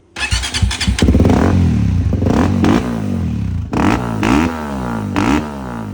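A Paladin 300 welder generator engine with its catalytic converter removed cranks and catches, then runs loud and raspy, revving up sharply several times with a harsh, unmuffled bark between idles.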